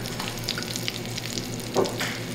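Sugar frying in butter and oil on the way to caramel, a steady close sizzle with soft bubbling crackle and a brief louder spatter near the end.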